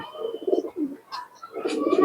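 Pakistani Teddy pigeons cooing close by, a few short throaty coos with brief pauses, then a fuller burst of calls, with no talking over them.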